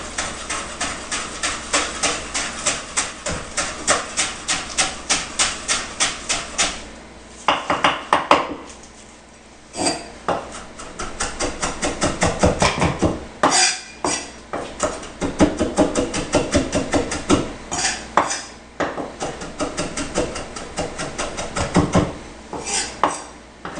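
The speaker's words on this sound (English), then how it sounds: "we're going to go ahead and start chopping some veggies" Rapid rhythmic knife chopping of Italian parsley on a cutting board, bursts of quick taps separated by short pauses, close and crisp.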